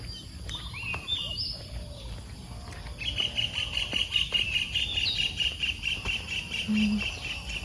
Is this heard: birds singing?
yes